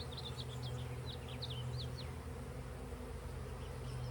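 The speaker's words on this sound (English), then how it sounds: "Whole bunch of bees." Steady low droning hum of many honeybees on a hive frame with capped larvae, constant and dense, with faint high chirps flickering over the buzz early on.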